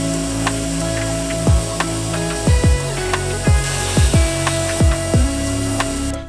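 An aerosol can spraying cleaner onto a dirty engine transmission part: a continuous close hiss runs throughout, over a steady hum with repeated low swooping tones.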